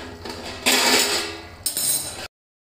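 A metal lid lifted off a pan of simmering chana dal curry on a stovetop, giving two bright clattering scrapes and clinks close by, the second shorter, then silence.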